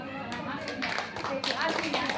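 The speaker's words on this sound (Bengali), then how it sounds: "হাততালি দাও।" Children clapping their hands at a school Teachers' Day prize event, uneven bursts of clapping that come in waves under nearby voices.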